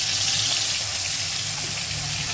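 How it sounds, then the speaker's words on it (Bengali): Khoira fish slides into hot smoking oil, giving a loud, continuous hiss of bubbling frying that stays dense and steady throughout, close and alone without talk. "এবারে তেলে মাছগুলোকে ছেড়ে দিই।"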